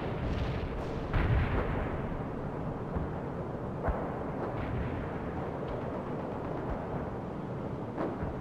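Napalm strike in the strategy game World in Conflict, heard as a continuous rumbling roar of fire and blasts with several sharp bursts standing out, sustained and dense throughout with no talk.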